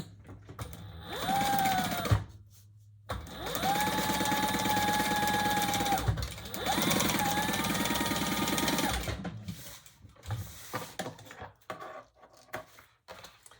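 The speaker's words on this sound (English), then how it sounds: "I'm going to stitch it right side up" Sewing machine stitching a zipper pocket onto a bag, three sustained whirring runs of rapid stitching with short pauses between, followed by quieter handling clicks and fabric rustle, no talk.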